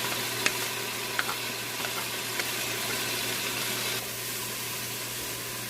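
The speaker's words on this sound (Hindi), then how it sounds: "मसाले को अच्छे से भून लेंगे।" Turmeric, cumin seeds and dried coriander frying in a pan for a bottle gourd curry, giving a faint steady sizzle with a few small pops and scrapes of stirring, and a low hum underneath.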